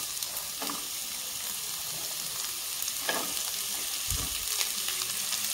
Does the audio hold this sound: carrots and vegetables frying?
yes